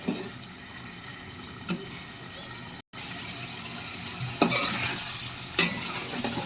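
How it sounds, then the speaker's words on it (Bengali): New potatoes stir-fried in oil in a pan, giving a continuous sizzle broken by a few louder scraping stirs of the spatula. "এই আলুটা কষানো হয়ে গেলে মাছটা দিয়ে কষাবো সুন্দর করে"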